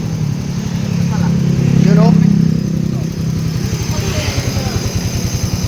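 A Yamaha Raider 150 FI motorcycle engine, just after a general overhaul, rumbles up, revs to a peak, then settles into a steady putter close to the listener.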